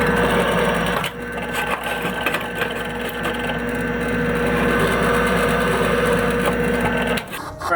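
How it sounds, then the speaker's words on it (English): A drill bores into metal with a 1/8 inch pilot bit, a loud, close, steady motor whine with rattling chatter that runs for several seconds, briefly dipping before resuming. "I'm going to start off with like an 1/8 inch pilot bit just so my hole finds itself well."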